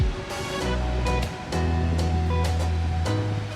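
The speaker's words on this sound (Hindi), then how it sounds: "फॉल के एकदम पास से बोट निकल रही है, ऊपर से पानी" Chitrakote waterfall in Chhattisgarh roars with a steady, loud rush of falling water, and a boat's engine hums beneath it as it passes close to the falls.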